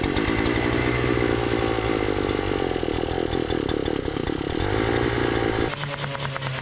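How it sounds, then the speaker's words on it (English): A Harbor Freight gas-powered earth auger bores into frozen ground in the woods, its engine droning loud and steady up close, the pitch shifting and settling lower near the end. "I decided to be smart about it and break out the Harbor Freight auger"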